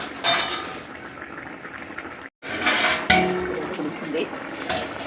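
Fish curry soured with raw tamarind pieces bubbles and boils in a pot, a continuous close burbling broken by a few utensil clinks and stirring sounds.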